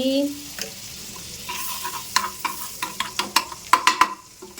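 Butter and sugar in a hot pan, a soft sizzle underneath a run of quick clicking scrapes from a spatula stirring, the taps growing more frequent and louder toward the end.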